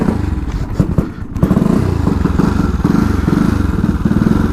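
A kick-started motorcycle engine fires up after a couple of thumping kicks and settles into a steady, loud idle, with clattering mechanical noise up close and no talking.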